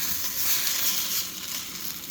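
Hash browns frying steadily in a pan, a continuous close sizzle and crackle of oil with no voices.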